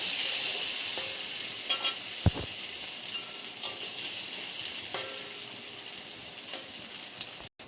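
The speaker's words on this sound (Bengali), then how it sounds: "ওটা দিয়েও আমি একটু ভাজা করে নেব।" Ginger, garlic and onion fry in a pan with a loud, continuous sizzle, punctuated by a few sharp clinks of stirring against the metal, before stopping suddenly at the very end.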